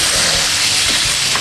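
Spices for bumbu songkem chicken wings sizzle and hiss steadily as they are stir-fried in a pan, a close, continuous frying sound with occasional stirring scrapes.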